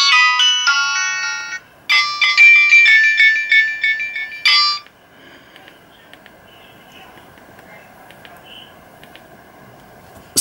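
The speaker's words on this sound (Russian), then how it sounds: "Но полифония, конечно, визжащая, пищащая." A loud, shrill, squealing polyphonic ringtone from an Alcatel 2053D phone plays a bright electronic melody in bursts, then stops, leaving faint quiet noise.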